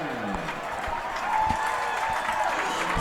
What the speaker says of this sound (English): The crowd is getting loud here at Riverview Stadium